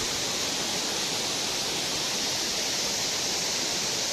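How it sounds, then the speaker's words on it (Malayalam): Water falling and rushing inside rock at a waterfall in Munnar, a dense, steady roar of broadband noise with no breaks and no voices. "ഇത് പാറയുടെ ഉള്ളിൽ നിന്ന് വെള്ളം വീണ് കേട്ടത്."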